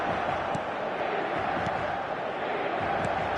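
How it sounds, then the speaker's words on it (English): A football stadium crowd in the Football Manager video game keeps up a steady dense roar with faint chanting and occasional sharper swells, loud and continuous, with no clear talking on top. "the crowd have tried to spark some excitement, but to no avail"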